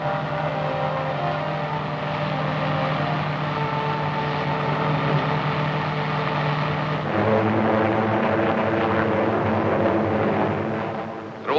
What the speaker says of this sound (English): Allied planes, thousands of them, continued to soften enemy defenses and communications in daily raids